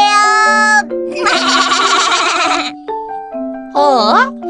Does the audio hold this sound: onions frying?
no